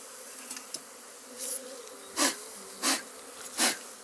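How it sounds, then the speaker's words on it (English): Honey bees buzzing around a hive frame of nurse bees in an apiary, a steady soft drone broken by several brief louder bursts of buzzing as bees fly close past. "I'll get my smoker and I'll blow a few of these bees off"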